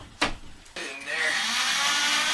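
Power drill driving screws through drywall during a master shower renovation: a brief whirring burst, then a short pause, then a longer, steady high-pitched drilling whine that continues to the end.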